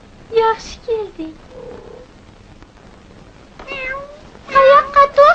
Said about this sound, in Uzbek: Mushukcha.